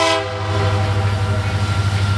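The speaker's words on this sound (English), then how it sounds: "And here comes the train." Norfolk Southern manifest freight train led by Union Pacific locomotives passes close by, a loud steady diesel engine drone with a sustained horn blast at the start and continuous rumbling throughout.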